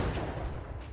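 A grenade explosion in the shooter game War Inc Battlezone makes a brief, loud, broadband blast with a rumbling low-end tail.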